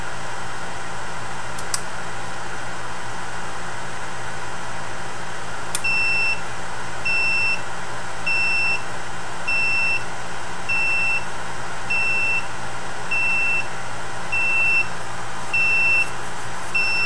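A steady series of short electronic beeps repeats at an even pace, roughly ten in a row, over a constant hum of fan noise.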